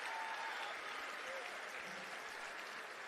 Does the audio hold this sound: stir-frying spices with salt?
no